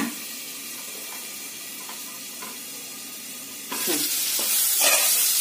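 Tomatoes are added to garlic and cumin tempering in a pan. A soft steady sizzle with light stirring scrapes gives way to a louder, brighter hiss as the ingredients hit the hot oil. No one speaks.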